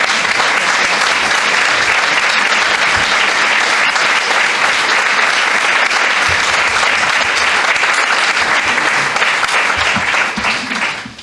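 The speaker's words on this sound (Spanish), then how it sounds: "solicito un fuerte aplauso para ella que nos ha hecho pasar un rato." Loud, sustained audience applause for a guest at the close of a Spanish-language talk session, a dense, steady wash of many hands clapping for about eleven seconds before tapering slightly at the end.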